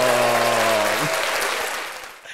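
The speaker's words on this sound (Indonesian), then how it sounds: "Kasih tepuk tangan dong." Applause from a small podcast studio audience greeting a guest, a brief burst of clapping over a fading musical tone that thins out within about two seconds.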